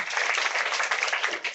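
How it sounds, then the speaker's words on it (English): An audience at an internet video channel launch event claps together, a steady dense patter of many hands sustained throughout at moderate volume with no talking over it. "Let's clap for this."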